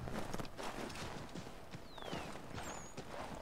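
Rhythmic clip-clop of a horse's hooves trotting steadily over a noisy background in Assassin's Creed III, moderately close, with a faint whistle-like tone sliding past.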